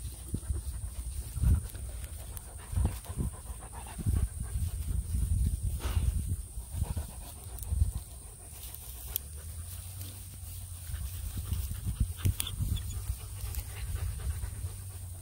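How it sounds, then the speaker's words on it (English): Puppies panting close by, a soft rapid breathing rhythm mixed with light shuffling and small movements, fairly quiet and without talk. "Puppies!"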